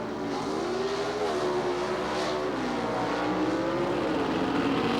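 Two 1976 Pro Stock drag cars, the Maskin & Canners Hornet X and Warren Johnson's big block Camaro, race at the Gator Nationals in Gainesville, producing a steady, loud engine roar with wavering tones that holds throughout, with no voices.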